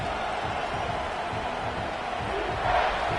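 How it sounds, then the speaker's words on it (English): A football stadium crowd roars steadily as fans urge on the defense, a broad continuous wash of distant voices that swells slightly near the end. "The roar of the crowd trying to fuel this defense to keep them pinned in their own end."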